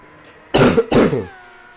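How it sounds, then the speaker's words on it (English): Two quick, harsh coughs burst out close to the microphone, followed by a faint hum and then quiet. "I'm trying to mute myself whenever I'm coughing so that you don't have to hear it."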